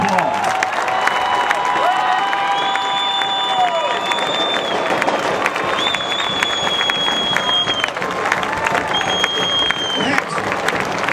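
Stadium crowd applauding and cheering for an Army specialist at a Buffalo Bills event, a steady dense roar of clapping with whistles and shouts rising over it, loud and sustained throughout.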